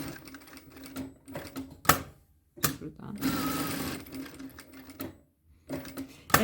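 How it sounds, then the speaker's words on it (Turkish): A sewing machine stitches corduroy jean-style trousers in short bursts of rapid clatter, broken by pauses and brief handling noises, with one longer run in the middle. "Şimdi hemen bunun kenarından yarım santimden bir daha bunu dikiyorum."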